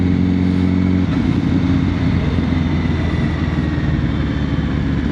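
A Yamaha XT600 motorcycle rides along a road on a cold day, its engine giving a steady close rumble with wind noise and no speech.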